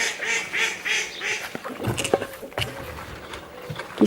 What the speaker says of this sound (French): Et maintenant, il ne reste plus que les canards.